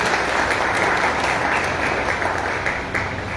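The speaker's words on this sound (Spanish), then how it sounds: "Un aplauso para ella." Steady, dense applause from an indoor audience at a book launch in Mompox, honoring a woman, a warm continuous wash of clapping that holds level throughout with no voices rising above it.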